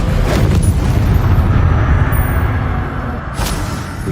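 The Bombardo explosion spell goes off in Hogwarts Legacy with a loud, deep, rumbling boom that fills the first seconds and then decays into a lingering roar, with a brief sharp burst near the end.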